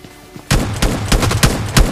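Gunfire in the mobile battle royale game PUBG Lite: a burst of sharp, loud shots after a quiet start, with several spaced cracks ringing out close by and no voices.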